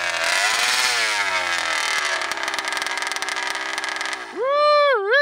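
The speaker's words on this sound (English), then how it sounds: "That's the loudest thing I've ever heard in my life for an engine" An RCMAX 80cc gas engine in a 1/5 scale RC monster truck revs close and very loud with a harsh, buzzing wail. It then drops off, and a swooping rise-and-fall of revs follows.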